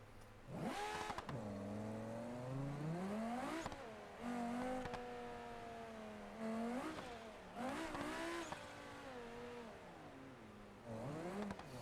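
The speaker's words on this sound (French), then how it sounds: "We're going to take a car that drives a bit better." Engine of a car in BeamNG.drive accelerating and shifting through gears, the revs climbing and dropping in repeated sweeps, fairly quiet overall with no talk.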